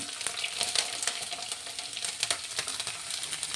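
Mustard seeds and garlic fry in hot oil for a pickle of half-ripe mango, giving a steady crackling sizzle with sharp pops and spits scattered throughout, close and fairly loud, with no voices.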